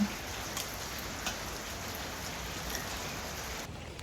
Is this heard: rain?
yes